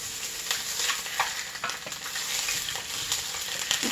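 Sausages sizzle and fry in olive oil in a pan, a continuous close crackling hiss with occasional stirring scrapes and spatters, steady and without speech.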